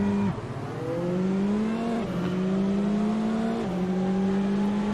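A field of race cars in the Assetto Corsa racing game pulls away from a standing start, engines loud and close, rising in pitch through each gear and dropping at repeated upshifts over a steady roar.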